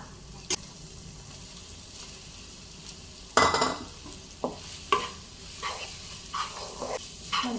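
Rice for mint rice fries in a pan, giving off a soft sizzle, while a spoon scrapes and stirs it in a series of irregular, close scraping strokes.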